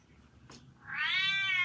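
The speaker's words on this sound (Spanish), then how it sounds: "¿Quién hace ese sonido? El gato." A single cat meow, fairly close and clear, rising and holding for under a second after a brief soft tick, with no voices over it.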